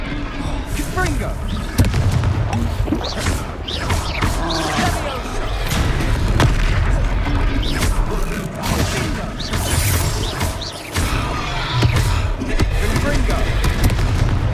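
Repeated Confringo blasting spell explosions in a Hogwarts Legacy battle against a hulking foe, sharp bursts and shattering crashes recurring over dense combat noise, with voices talking now and then.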